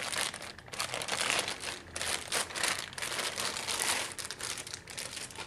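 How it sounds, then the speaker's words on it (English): Crinkly plastic packaging rustles and crumples steadily as an Electro-Voice ZLX speaker is lifted out, a dense, close crackle that runs throughout with brief dips. "You're going to take it out of its plastic packaging."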